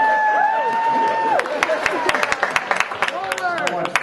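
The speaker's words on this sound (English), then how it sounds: "Somewhat feminine sort of applause there." An audience at a juggling and vaudeville physics show gives a short round of scattered, light applause, with individual claps audible over a whistling tone and a voice speaking over it.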